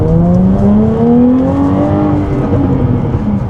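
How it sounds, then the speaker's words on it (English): Jaguar F-Type V6S engine revving under light throttle, its tone climbing steadily in pitch as it pulls, loud and close with no talking. "And this is a Jaguar F-Type V6S. Now, if I put my foot down just a little bit,"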